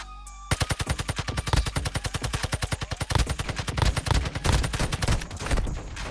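A weapon in the mobile shooter Warzone Mobile fires long, rapid automatic bursts, dozens of punchy evenly paced shots, loud and close, with a brief pause midway before the firing resumes.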